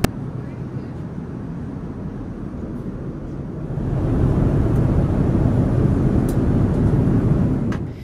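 Steady broadband roar of an Air Greenland airliner cabin in flight over the Greenland ice cap, a constant low drone that swells slightly louder midway and holds, with no talk.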